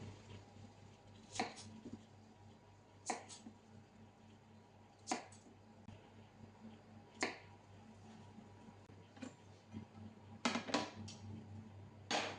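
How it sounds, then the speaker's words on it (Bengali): A knife slicing through onions in a kitchen while preparing tandoori fish: sharp, crisp cuts spaced a second or two apart, some falling in quick pairs, close and fairly quiet over a low background hum. "পেঁয়াজ কুলিগুলি আমি ঠিক এইভাবে কাটবো, তারপর বের করে এগুলিকে ঠিক এখান থেকে কেটে নেব"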